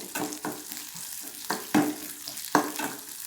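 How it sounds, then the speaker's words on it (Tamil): Onions sautéing in a pan for a tomato-onion chutney: a soft sizzle under a few distinct scraping stirs of a spatula, close and moderately quiet. "இப்போ வெங்காயம் வந்து வதங்கிட்டு இருக்கு"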